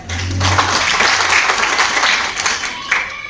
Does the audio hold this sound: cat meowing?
no